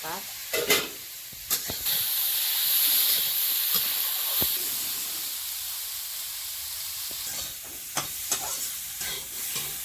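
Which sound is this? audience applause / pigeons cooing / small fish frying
small fish frying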